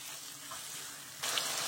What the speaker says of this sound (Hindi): अब इसको अच्छी तरह इसमें इसकी भुनाई कर लेंगे।